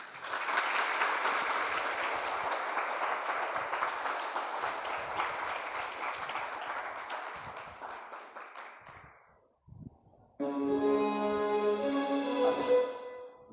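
An audience at an Islamic boarding school event claps in sustained, dense applause that fades after about nine seconds, followed by a brief silence and then music.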